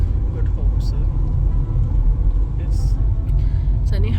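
A car driving on a road in the Western Cape toward the Cape of Good Hope, a loud, steady low engine and road rumble heard from inside, with a few brief higher noises and people talking over it.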